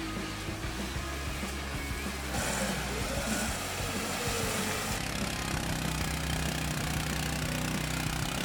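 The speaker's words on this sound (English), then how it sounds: "Let's watch for a bit our bikes getting over the dirt." Tofalar ATV bikes ride over dirt, their engines droning steadily and rising slightly in intensity partway through, with rough mechanical rumble throughout and no clear talk.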